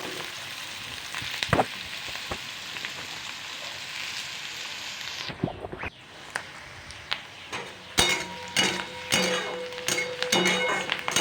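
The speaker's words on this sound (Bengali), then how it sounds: "লাল লাল করে পেঁয়াজগুলি ভালো করে নরম হয়ে যাবে এবং মুচমুচো হয়ে যাবে ততক্ষণ অবধি আমি পেঁয়াজগুলিকে এখন ফ্রাই করতে থাকবো" Onions frying in oil in a pan for an aloo gobi dish, a steady crackling sizzle with occasional sharp stirring clicks and scrapes, louder and busier toward the end.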